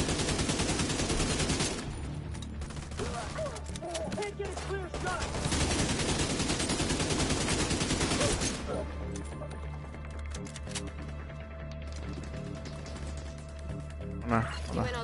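Gunfire in The Division 2 rattles in dense rapid bursts for several seconds, then drops to scattered single shots, loud and close, with people talking over the fighting throughout.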